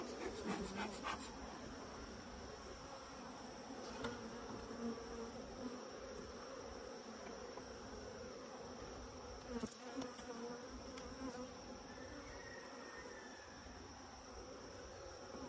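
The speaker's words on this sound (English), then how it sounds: "And of course they're all flying out at me." A dense swarm of honeybees buzzes around an opened hive, a continuous close, steady hum with a few louder passes as individual bees fly near.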